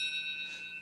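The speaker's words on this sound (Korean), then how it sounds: "아, 종에서 종소리가 나는구나," A metal bell rings out with a sustained, bright tone that slowly fades, a single clear strike heard faintly in a quiet room.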